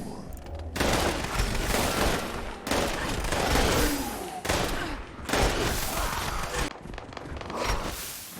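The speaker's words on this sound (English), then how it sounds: "As you strike, a satisfying ice coating sound is emitted." Melee strikes from a War Glaive coated in ice in Fallout 76 land as a run of loud, broad impact bursts with short gaps between them, continuing across the whole stretch.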